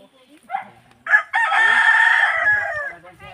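A rooster crows loudly nearby, one long drawn-out call after a couple of short clucks, with little else around.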